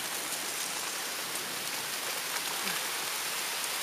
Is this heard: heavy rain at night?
yes